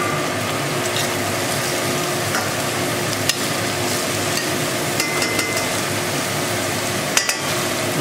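Onion, ginger and green chili stirred in a hot pan, a steady close scraping and rattling sizzle with small clinks of the utensil, continuous and fairly loud with no voices.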